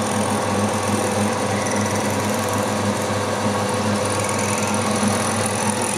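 A metal lathe counterbores aluminium, its motor and spinning chuck giving a steady, loud, even mechanical whir with a faint rhythmic chatter throughout.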